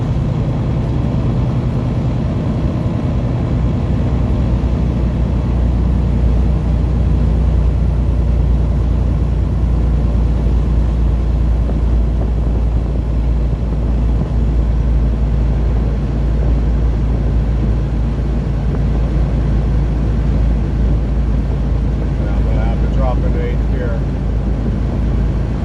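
A long-haul semi truck cruises in 8th gear on a highway in Arizona. The loud, steady engine and road drone fills the cab, unchanging throughout.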